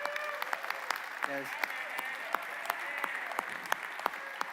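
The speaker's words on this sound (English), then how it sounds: "I think we should give Al just a round of applause for all that he does." Sparse, scattered clapping from a small audience, individual claps standing out over a steady background murmur.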